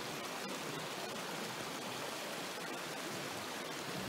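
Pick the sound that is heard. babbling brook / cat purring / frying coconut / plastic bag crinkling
babbling brook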